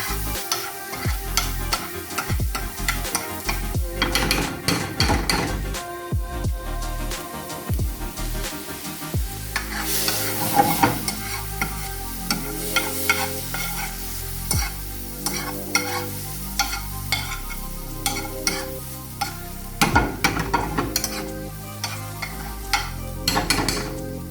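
Vegetables for shrimp pasta sautéing in a pan with all-purpose seasoning, a continuous sizzle broken by frequent scraping and stirring strokes of a utensil, close and fairly loud.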